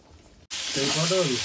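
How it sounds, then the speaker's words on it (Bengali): After a quiet moment, pointed gourd hits hot oil seasoned with salt and turmeric and bursts into a loud, close sizzle that holds steady, with a faint tonal hum underneath. "সেটাকে আজকে একটু ভেজে নিচ্ছি।"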